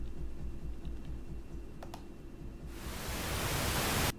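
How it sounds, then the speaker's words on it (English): Pink noise played back, a broad hiss that swells in loudly partway through and then cuts off abruptly, following a quieter stretch of low rumble with a couple of faint clicks. "I don't know how you guys like pink noise. It's too loud for me."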